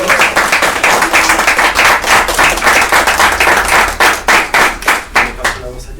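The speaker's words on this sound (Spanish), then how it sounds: "Pues un gran aplauso, por favor," An audience at a Spanish-language book presentation claps for the invited guests, loud and close, starting as dense applause and thinning into separate, rhythmic claps near the end.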